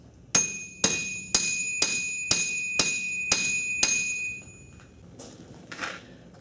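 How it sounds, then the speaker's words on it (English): A blacksmith hammers iron on an anvil, eight evenly spaced ringing metallic strikes about half a second apart, each leaving a bright sustained ring, then a few quieter scraping knocks, with no talking. "I will choke up on it and use more of my body and shoulders to do the hammering"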